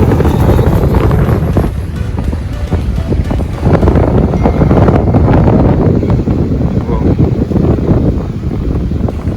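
Strong wind roars across the microphone at a beach in Haifa, Israel, a loud continuous buffeting rush with waves and surf underneath.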